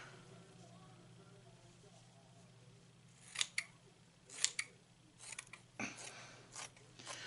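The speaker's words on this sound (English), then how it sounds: "I'm going to take trauma shears." Trauma shears bite through a cheap cotton bath towel in a handful of sharp, crunchy snips, the first ones spaced apart and then coming quicker, close by over a low, quiet room hum.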